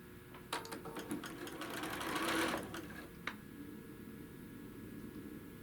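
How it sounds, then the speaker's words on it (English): A sewing machine stitches quilt fabric nearby with a rapid mechanical whir that builds to a sustained run and then stops, followed by a quieter click and low room hum. "And we're going to sew down on both sides."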